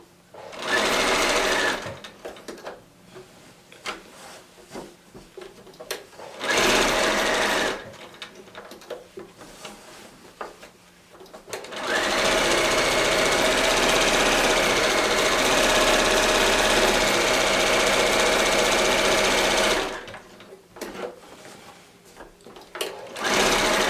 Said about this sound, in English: And sew about 1/8 of an inch away from the edge of the twill tape.